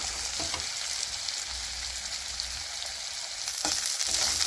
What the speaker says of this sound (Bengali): তেল গরম হয়েছে, পেঁয়াজ দিয়ে লেছি